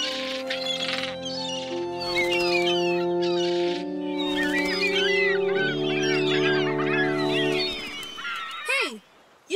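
A cartoon goose honks and squawks in a busy burst of nasal calls over sustained music, with a voice speaking briefly near the end.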